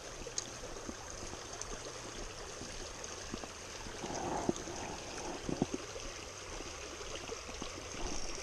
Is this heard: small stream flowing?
yes